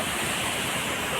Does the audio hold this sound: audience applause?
no